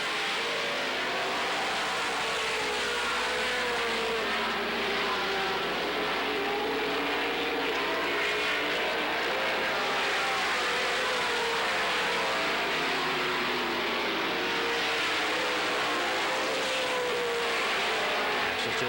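Race cars at the 1985 Las Vegas Speedrome Sunkist Fall Classic roar down the straightaway, a steady loud engine drone with rising and falling pitch as the pack passes, under crowd and track ambience.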